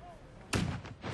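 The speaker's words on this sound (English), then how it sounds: "cannons were fired at the reenactment" A cannon fires at a War of 1812 battle reenactment at Plattsburgh, one loud sudden outdoor boom that rumbles and echoes for a moment afterward.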